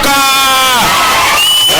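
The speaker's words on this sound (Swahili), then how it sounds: "Makofi." Crowd cheering and applause at a political gathering in Kisii, Kenya, with loud sustained voices, whoops and shouting rising over the clapping, close and intense throughout.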